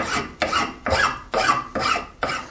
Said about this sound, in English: I'll just finish smoothing everything up after the spoke shave with a nice fine file